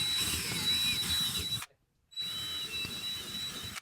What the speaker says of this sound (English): we're going to drill through and repeat that process all the way around for you.